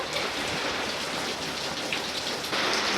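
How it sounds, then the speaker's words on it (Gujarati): Steady heavy rain pours down continuously with wind, a dense hiss of drops striking surfaces close by, with no voices. "ઓલી હાજી શાંતિ ભાઈ અત્યારે વરસાદ ની પલરે જો"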